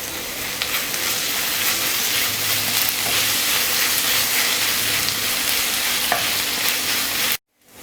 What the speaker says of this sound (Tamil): வெங்காயம் இஞ்சி பூண்டு பேஸ்ட் நல்லா வதங்கிடுச்சு